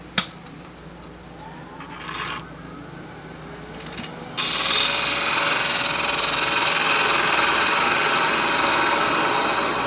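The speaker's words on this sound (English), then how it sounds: "So what I'm going to do is face this off and mark a center." A wood lathe faces off a tic tac toe box blank. After a sharp knock and brief scraping, the tool engages and a loud, steady cutting roar with a high whine continues close by to the end.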